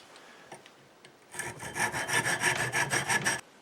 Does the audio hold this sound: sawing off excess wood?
yes